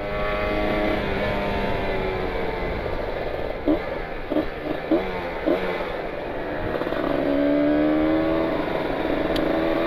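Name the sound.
Kawasaki Ninja 150 RR motorcycle engine at full throttle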